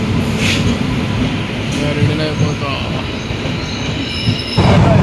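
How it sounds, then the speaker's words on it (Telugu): A train bound for Secunderabad rumbles in close by at a station, its wheels squealing and metal clattering, while a person briefly speaks over the noise. "మన ట్రైన్ వచ్చేసింది గైస్"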